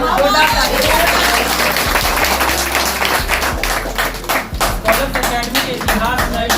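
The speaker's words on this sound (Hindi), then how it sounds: "बहुत सम्मान है, जोरदार तालियां।" Audience applauding at a Teacher's Day celebration at an academy, sustained dense clapping throughout, loud and steady, with some voices mixed in underneath.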